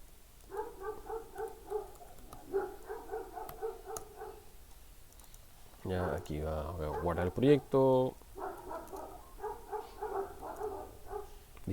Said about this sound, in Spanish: Disculpen los perros, no son míos.